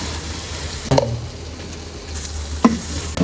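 A biryani masala mixture with turmeric and garam masala is stirred in a pan: a low sizzle runs underneath, broken by two sharp scraping knocks of the spoon against the pan.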